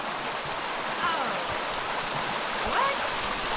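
A waterfall and stream on a Southern California hiking trail give a constant broadband rush of flowing water, with faint voices briefly rising above it now and then.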